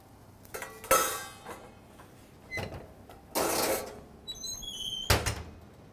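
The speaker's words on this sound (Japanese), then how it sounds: "今沸いたんで蓋をしてオーブンに入れていきます" A pot lid clatters and metal cookware knocks as a just-boiled pot is covered and slid into an oven, giving a few separate clanks and scrapes at close range, then a short series of faint high beeps.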